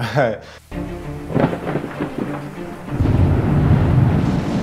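A rumble of thunder gives way to a dense, steady roar of heavy rain, loud and close.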